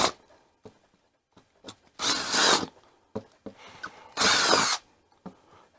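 A power drill bores a hole in wooden framing in two loud, sustained bursts of roughly half a second each, separated by quieter clicks and handling noises.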